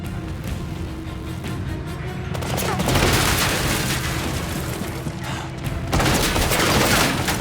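Gunfire in the action game 007 First Light: dense, loud volleys of shots crackle and boom in sustained bursts, with a brief lull between two heavy stretches of firing.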